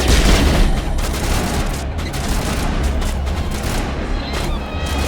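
Sniper rifle fire in Mass Effect Legendary Edition, a loud run of heavy booming shots blended with battle noise, dense and close throughout.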